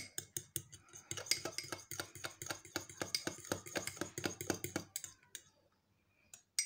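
A skin mask being mixed with a whitening capsule in a bowl gives rapid, rhythmic clicks and scrapes of a utensil against the bowl, steady for about five seconds and then stopping, with one last tap at the end.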